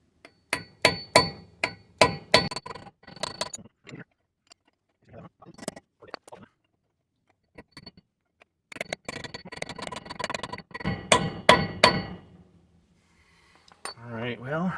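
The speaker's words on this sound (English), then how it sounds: "See if maybe we could hammer on" Sharp metallic hammer blows ring out in quick bursts as a socket is hammered onto a rounded lug nut, a steady run of strikes, a pause, then another rapid flurry, close and loud.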